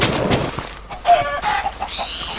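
Minecraft chickens cluck in short bursts over constant game background noise, with a few brief clucks close by and no talk.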